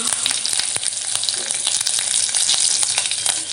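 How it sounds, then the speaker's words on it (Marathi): Mustard seeds, cumin and curry leaves sautéed in hot oil with asafoetida for a tempering, a steady loud close sizzle and crackle with scattered sharp pops, no talking. "आता हे सगळं आपल्याला व्यवस्थित असं परतून घ्यायचं आहे"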